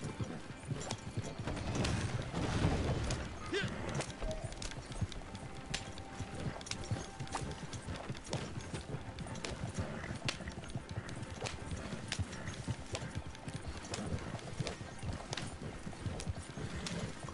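Horse hooves clip-clop in a rapid, continuous gallop in the video game Red Dead Online, a moderately faint, busy rhythm of hoofbeats mixed with clattering tack and gear, with no voices over it.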